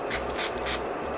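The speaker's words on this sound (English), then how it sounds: "setting spray on it" Three short hissing bursts of makeup setting spray, evenly spaced and close by, with no talking.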